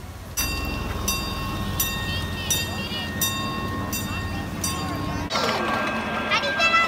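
Miniature train of the Enchanted Railroad at Descanso Gardens rolling past nearby with a continuous rumble, rhythmic wheel clicks and bright ringing tones, louder and harsher near the end, with people talking over it.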